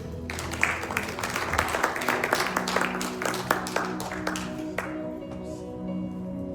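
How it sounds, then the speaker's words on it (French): Church congregation clapping to welcome the preacher, a lively burst of individual claps with a sustained tone and music underneath, thinning out and fading toward the end. "vos applaudissements."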